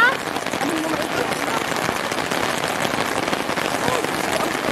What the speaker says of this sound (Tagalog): Ay, ang ulan.